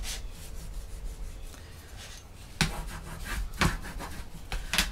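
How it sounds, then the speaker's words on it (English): Paper stuck down with wet adhesive in a pocket-page scrapbook mini album is burnished flat by hand, giving soft, close rubbing strokes with a few brief louder swipes, no talking. "burnish it"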